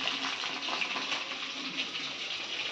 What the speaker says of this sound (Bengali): মাছটা এখানে ভাজা চলছে